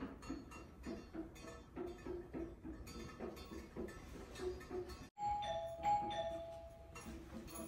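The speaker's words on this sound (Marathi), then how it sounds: "ताट रेडी करून ठेवलेलं आहे आणि बेल वाजलेली आहे" Background clatter and murmur during Ganesh festival preparations at a home in the United States, then a clear electronic doorbell chime rings out twice after a brief pause.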